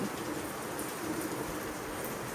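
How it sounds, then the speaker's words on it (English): Heavy rain pouring down in a dense, constant roar of drops hitting surfaces, loud and unbroken throughout. "And now it's downpour again."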